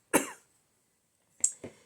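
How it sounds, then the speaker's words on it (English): Three short, dry coughs close to the mic: a single cough, a pause of about a second, then two quick ones in succession. "I feel like I'm going to cough"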